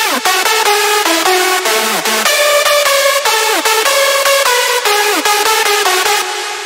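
Layered electronic synth melody from a remix, with a bright lead from a Vandalism pack stacked over other parts; loud, dense and continuous, with quick stepping notes and downward pitch slides, no voices.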